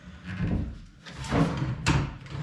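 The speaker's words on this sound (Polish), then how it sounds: "Kolejne szuflady, nic w nich nie ma." Hotel room drawers are slid open and shut nearby, making a few scraping, sliding bursts with a soft knock, and no one talks.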